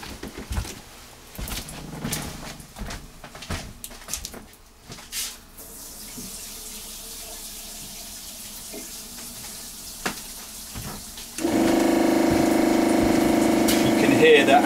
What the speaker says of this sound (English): you'll hear the pump and the diaphragm kicking in and start to feed the pressure